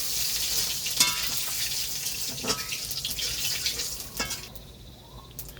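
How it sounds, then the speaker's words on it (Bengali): Dried red chillies and cumin sizzling in hot oil for a tempering, a steady close crackle with a few sharp pops and spatters that fades slightly toward the end. "ফোড়নে শুকনো মরিচ দিলাম জিরে দিয়ে দিলাম"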